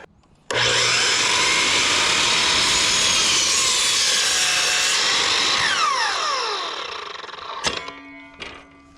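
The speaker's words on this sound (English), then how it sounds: "since I have my miter saw here, I'm going to use it" A miter saw cuts a wooden block for a kayak storage rack, its motor spinning up abruptly into a loud, sustained whining cut that slowly winds down, ending in a couple of sharp knocks.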